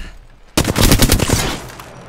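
A burst of rapid automatic gunfire in the video game Apex Legends, loud and close, starting abruptly and rattling for about a second before tailing off.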